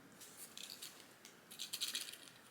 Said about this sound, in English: it sounds like needles or pins.